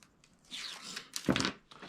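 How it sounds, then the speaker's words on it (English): Adhesive tape ripped from a roll and pressed onto a 12 by 1 1/4 inch craft strip, heard as a soft crinkling rasp followed by a sharper close tearing burst, no talk. "we're going to take our 12 by 1 1/4 inch strip, and we're going to apply tape to it"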